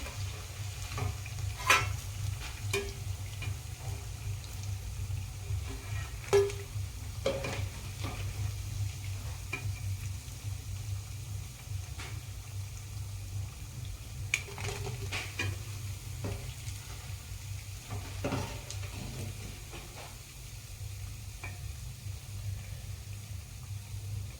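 Sabudana vadas sizzle in hot frying oil as they are lifted out one by one, a steady low crackle throughout with scattered light clicks and stirring taps from the utensil.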